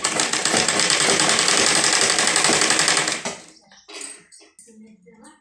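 A sewing machine stitches a blouse piece in a loud continuous whir for about three seconds, then stops, leaving quiet handling sounds.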